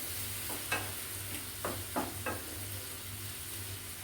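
Curry leaves fry in a pan with ginger, garlic and tomato for a Kerala-style beef dish, with a soft, continuous sizzle and a few brief stirring scrapes.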